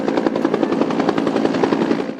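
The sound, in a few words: Bolkow BO-105 helicopter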